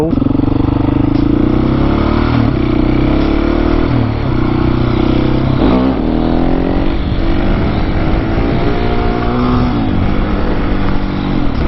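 A 701 supermoto motorcycle accelerates hard, its engine pitch climbing and falling across several revving pulls, loud and close over constant wind roar.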